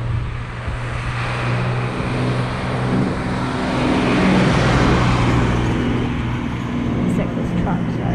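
Trucks rumbling past on a road on Orchard Island (Lanyu), Taitung, Taiwan, a steady loud engine drone and low hum close by, with someone talking over the noise.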